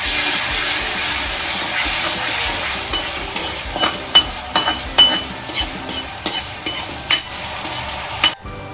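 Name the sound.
frying ginger garlic paste in a pan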